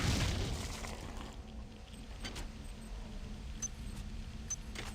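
A stock explosion from System Shock 2 opens with a heavy, low boom that decays into a rumbling tail, followed by faint metallic clinks and small pops against a quiet background.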